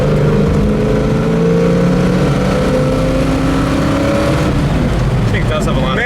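A 1966 Mustang GT Fastback engine idles and revs after a cold start in freezing weather, a steady loud rumble with rising tones, while someone talks over it.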